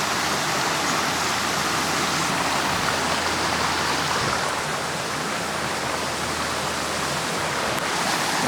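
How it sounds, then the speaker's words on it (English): A river flows past the shore in a constant broadband rush, loud and steady without pause, with no voices. "By the shore of a river."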